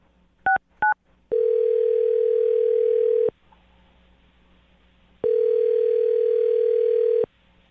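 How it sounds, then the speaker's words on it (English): Two short telephone keypad beeps are followed by a steady, loud dial tone that holds for about two seconds, stops, and then returns for another two-second stretch while a phone number is being called. No one speaks. "I'm going to dial the phone number right now."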